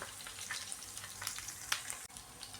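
Vegetables being stirred as they fry in oil in a pan over a slow flame, a steady soft sizzle with scraping stir strokes at intervals, no talking.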